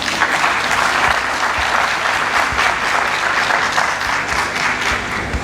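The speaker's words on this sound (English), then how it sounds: "I thought the soil scientists would clap hands." Steady, thick applause from an audience at an inaugural university lecture on soil science, continuous and fairly close throughout with no voices standing out.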